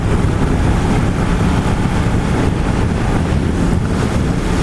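Heavy wind roar buffets the microphone as a Yamaha MT-10 SP motorcycle is ridden at motorway speed, a dense continuous rush that drowns out everything else.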